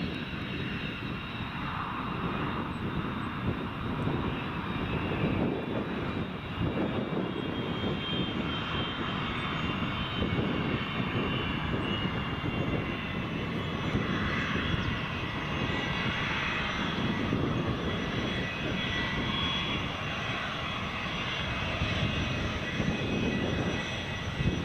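Airliner taking off at Newcastle Airport, a steady distant engine roar with a low rumble that holds for the full length, with no clear rise or fade.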